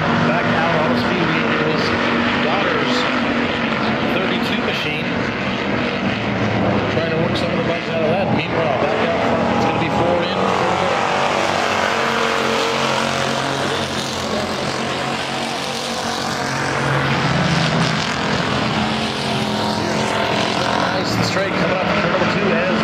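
IMCA hobby stock race cars roar around the Cocopah Speedway during a Winter Nationals heat race, engines droning loudly and continuously with rising and falling passes, under an announcer's commentary.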